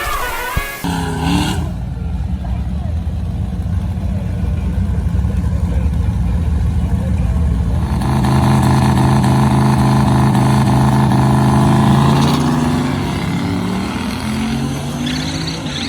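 A race car running on a track during a track day, a loud, close engine roar heard from on board that climbs and drops through gear changes, with sustained revving in the middle stretch and no talking.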